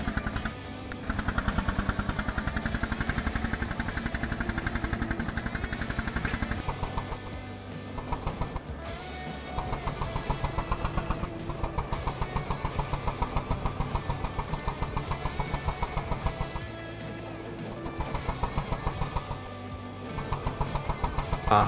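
A 65 hp tractor engine drives in Farming Simulator 22, a steady mid-pitched rumble that holds loud for several seconds, dips briefly, then resumes with a rhythmic pulsing drone, alone without talk.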